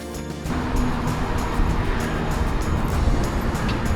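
A steady broadband hiss of road traffic with tires swishing over wet pavement on a bridge over the Danube, fairly loud and continuous, with no voices.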